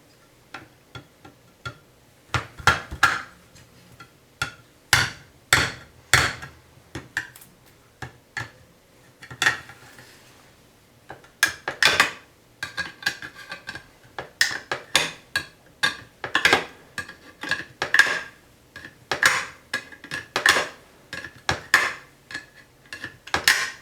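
A Strider SNG tanto knife punctures and saws around a steel Spaghetti-O can, giving a steady run of sharp metallic clicks, ticks and scraping taps, close and fairly loud, with a short pause partway through.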